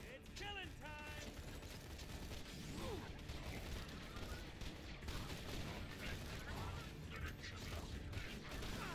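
A turret in Borderlands 2 fires rapid bursts of gunfire, mixed with mechanical clatter and explosions in a busy game battle.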